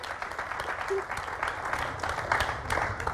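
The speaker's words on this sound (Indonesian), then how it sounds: "Oke, boleh tepuk tangan buat Pak Amin Rais, gambarnya bagus" Audience applause at an Indonesian political discussion event on Jokowi-JK's first 100 days, a steady broadband clapping texture filling the whole clip at moderate level, with crowd noise mixed in.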